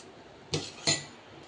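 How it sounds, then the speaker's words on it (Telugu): A spoon stirring tomato curd chutney gives two quick clinks against the bowl about a third of a second apart, close and clear over a quiet background. "ఇప్పుడు దీన్ని మిక్స్ చేసుకోవాలి బాగా."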